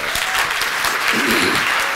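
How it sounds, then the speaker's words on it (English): A conference audience at a Code for America summit claps steadily, a dense even roar of many hands with no pauses, filling the room. "let us give our great and dynamic founder and executive director of Code for America another big round of"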